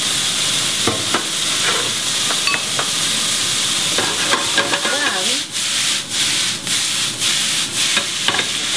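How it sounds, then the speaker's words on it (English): Broccoli rabe hitting a very hot pan with garlic and crushed red pepper, sizzling loudly and continuously while being stirred and scraped, with occasional clinks of the utensil. "in goes the broccoli Rabe. That is a very hot pan."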